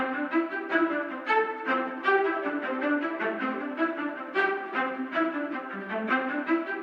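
Synth string texture patch in FL Studio, a soft, airy stream of rapidly pulsing bright notes fluttering in an even rhythm, quiet and unaccompanied.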